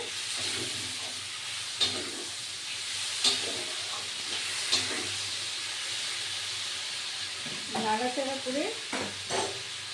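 Shredded cabbage and peas fry in a pan under a steady sizzle and hiss, with intermittent stirring scrapes and clinks, near and alone.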